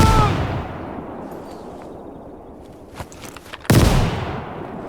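Gunfire and an anti-tank grenade blast in the World War II strategy game Call to Arms: Gates of Hell, with scattered shots fading into a sudden loud explosion near the end.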